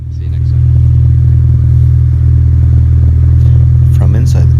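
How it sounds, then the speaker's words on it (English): A VW Corrado engine idles steadily with its newly installed exhaust, a loud, constant low drone held for several seconds, with a faint clatter and brief higher sounds near the end. "So the new exhaust sounds louder on camera, but it's actually quieter."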